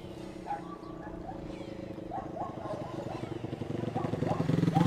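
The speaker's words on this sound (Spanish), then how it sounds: "Una motito viene ahora, ¿no?" A small motorbike approaches along a rural dirt road in La Pastora, near Tandil, its engine hum growing steadily louder over the clip while people talk nearby.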